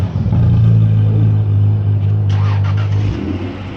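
A 2000 Acura NSX NA2 with its mid-mounted engine revs loudly through a dual exhaust, a steady low droning note held for about three seconds, then dropping away as it settles.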